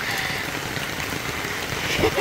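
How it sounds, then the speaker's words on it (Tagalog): Heavy rain pours down steadily, a dense, close hiss of drops striking surfaces by the sea, with a faint voice briefly audible beneath it. "Ang lakas ng ulan."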